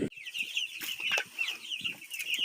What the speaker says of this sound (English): let me show you the chicks